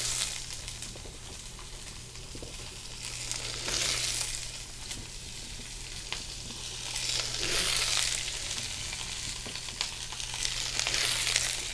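Squash pieces sizzling in hot grease in a pan as they are sauteed, a loud, steady frying hiss up close that swells and eases in waves, with no talk.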